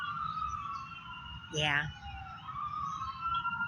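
An ambulance siren wailing in the distance, a steady rising and falling tone that runs the whole time, with a brief vocal sound in the middle.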